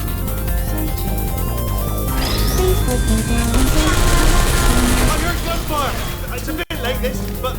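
Loud, dense gunfire and crashing clatter in the video game Portal 2, layered with mechanical noise and music-like tones, with a brief cut near the end.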